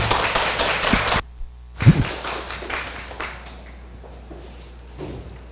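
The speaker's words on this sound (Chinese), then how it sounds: "请各位掌声欢迎。" An audience at a beginner-level lecture class claps to welcome a woman lecturer: a dense burst of applause for about a second, then it cuts off, leaving a few scattered taps and thumps in a quiet room.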